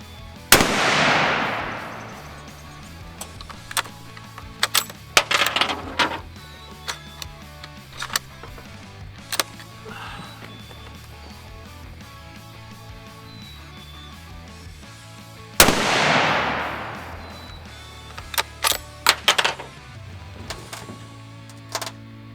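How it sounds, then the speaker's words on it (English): Two loud deer rifle shots at a 50-yard range, spaced well apart, each a sharp blast with a rolling echo, separated by bolt clicks and handling noises outdoors. "first shots with this thing, I'm only shooting about 50 yards just to see"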